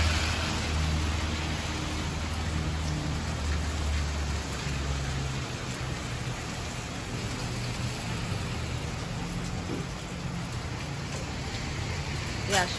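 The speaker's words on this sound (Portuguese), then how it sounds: "E a chuva continua." Steady rain falls on a Christmas Eve street where skewers are being grilled and sold, a soft continuous hiss with a low background hum throughout.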